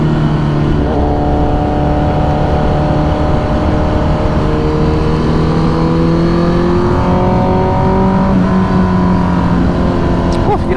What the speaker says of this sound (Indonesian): suara motor ini galak banget